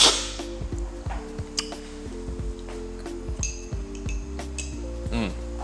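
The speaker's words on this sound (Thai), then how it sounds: "คนให้มันเข้ากันนิดนึงนะฮะ" Hot coffee and water stirred together in a cup, a spoon clinking and tapping against the sides in a loose, irregular rhythm, close and fairly loud.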